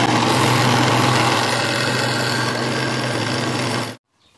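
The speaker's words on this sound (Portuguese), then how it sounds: "Vou passar só uma lixa. Uma lixa 240 aqui," Wooden aroeira pen spinning on a homemade lathe while 240-grit sandpaper is pressed against it, a loud steady broadband hiss and motor hum that runs continuously before cutting off abruptly near the end.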